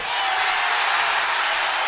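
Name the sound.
crowd cheering at Utah State basketball game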